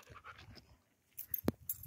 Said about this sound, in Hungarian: Nagyon kis kedves ez a kutya.